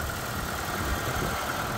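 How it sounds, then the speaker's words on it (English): A Proton Saga's Magma engine idles steadily, a close, even mechanical hum with a light ticking running through it, with no voices. "There's that Magma engine. Tick, tick, tick, tick, ticking away."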